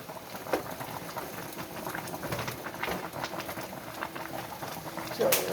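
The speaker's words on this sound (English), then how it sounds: "It's boiling." Pasta water boiling in a pot on the stove, a soft, busy bubbling and patter under faint kitchen noise, quiet and steady with a brief louder clatter near the end.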